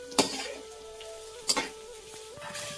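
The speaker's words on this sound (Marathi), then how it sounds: "थोडासा बटाटा ना तेलामध्ये परतते" Potatoes frying in oil in a pan give a continuous soft sizzle, with two sharp nearby clinks of a utensil stirring against the pan.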